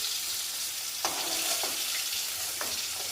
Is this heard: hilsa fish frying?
yes